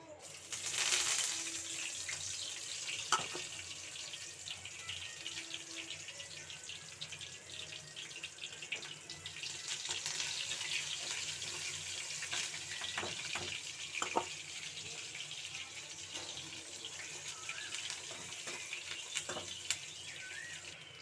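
Pieces of fish deep fry in hot oil with a continuous bubbling hiss, quiet and close, and a few faint clinks and knocks can be heard over it.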